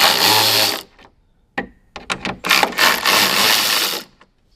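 Impact gun loosening 9mm bolts on a 2024 Ford Mustang front grille, a loud whirring burst, then a series of short sharp rattling hits and a longer sustained buzz, close up, with no speech.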